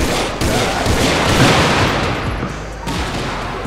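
Dense, continuous gunfire bursts from a GTA 5 street shooting, loud and close, rolling without pause under the game's ambient noise.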